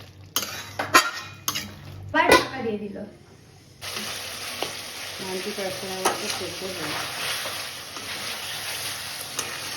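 Chicken for tehari frying in a pan, first with clanks and scrapes of a spoon stirring, then a steady loud sizzle of hot oil, while someone talks over it.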